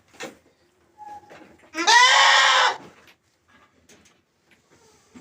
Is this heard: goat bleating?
yes